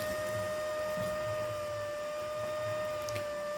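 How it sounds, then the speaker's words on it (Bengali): A power inverter under servicing hums with a steady electrical whine once switched on, a constant tone beneath faint background noise. "এই নিয়ে দেখেন ইনভার্টারটা কিন্তু চালু হয়েছে"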